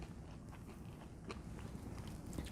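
Crunchy garlicky kale salad being chewed close up, with steady crisp biting and crunching textures, loud and alone, with no voices.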